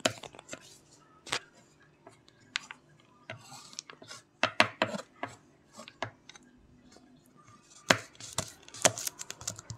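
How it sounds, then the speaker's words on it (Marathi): Cashews, almonds and pistachios are chopped finely with a knife in irregular bursts of quiet, sharp taps and knocks, some quick and some spaced out. The chopping is close and no one talks. "आपल्याला काजू, बदाम आणि पिस्ता बारीक चिरून घ्यायचे आहे। एक चाकू घ्यायचा आहे आणि छोटे छोटे भागाने चिरून घ्यायचं आहे।"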